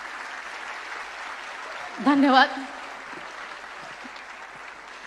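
Applause from a crowd honouring the speaker's mother, a continuous wash of clapping at moderate distance, with a voice briefly speaking over it midway.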